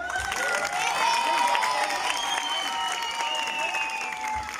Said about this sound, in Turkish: This applause not enough.